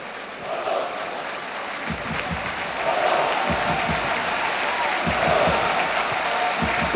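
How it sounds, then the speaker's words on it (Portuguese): A stadium crowd at Estádio das Antas applauds during an FC Porto Champions League match: broad, steady clapping that swells in waves and grows louder after a few seconds, with a crowd murmur underneath. "Bastantes aplausos no Estádio das Antas."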